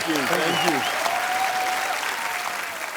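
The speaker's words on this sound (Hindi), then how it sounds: "तो आप सबकी जोरदार तालियों के बीच इनवाइट करना चाहूंगा the very handsome, very talented Ritesh Deshmukh and Vivek Oberoi" A studio audience at a comedy talk show applauds loudly as two guests are invited on stage. The clapping is thick and sustained, with a few tonal voice-like sounds briefly at the start, then fading gradually toward the end.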